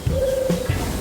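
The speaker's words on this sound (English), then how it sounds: "If you can hear strange bird noises in the background of my films" A soft, low bird coo with a steady electronic tone from a sound module on a model railway layout, short and fairly close, like a looping sound effect.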